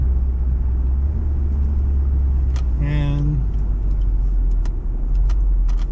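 A Jaguar XJR idles in a parking lot at the Armory in Clarksburg, West Virginia, its engine rumbling low and steady throughout, with a brief rising rev in the middle and a voice speaking nearby.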